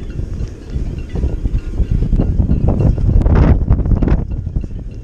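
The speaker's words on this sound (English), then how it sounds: "it's like super, super, super, super windy" Strong gusting wind buffets an exposed frozen lake during ice fishing in a wind storm, a loud steady roar with rumbling microphone buffeting and brief rattling bursts, no one speaking.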